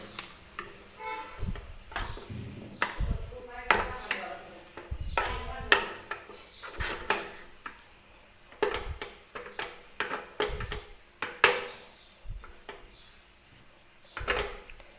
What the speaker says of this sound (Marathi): तर हे बघा, मी हे छान असा हलवा मिक्स करून घेतला